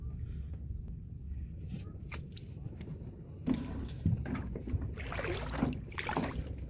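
A small rowing boat on the Padma river while out fishing, with low rumbling water and hull noise, some wind and a few scattered knocks that grow busier partway through.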